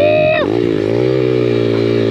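An Apollo RFZ dirt bike engine runs loud and close, first climbing in pitch then dropping sharply into a steady, throbbing idle that holds for the rest of the short stretch.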